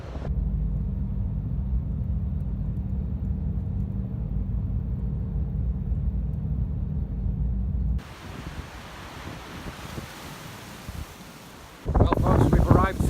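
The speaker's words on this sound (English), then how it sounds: "there's a storm kicking up here" Storm wind blows hard near a ferry crossing as a storm kicks up, with a deep, steady rumble that shifts into broad, gusty noise, and a voice breaks in loudly at the end.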